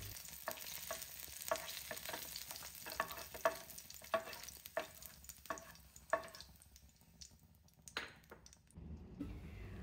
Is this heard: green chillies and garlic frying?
yes